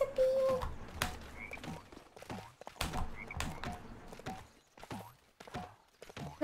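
Frog croaking in the video game Lego Worlds, a series of repeated croaks alternating with hoof-like clip-clop steps, fairly close with no talk.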